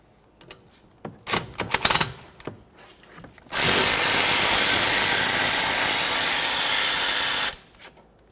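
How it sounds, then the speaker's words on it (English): Rear brake work on a 2001-2005 Ford Explorer Sport Trac: a few scattered clicks and ratchet taps, then a power tool whirs loudly and steadily for about four seconds while spinning out 10mm caliper slider bolts, close by. "Let's move along to removing our 2 10mm caliper slider bolts."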